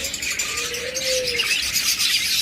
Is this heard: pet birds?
yes